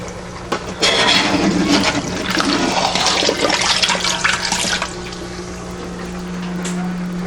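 Hot water gushes loudly from a tap for about four seconds, then drops to a softer, steady running trickle.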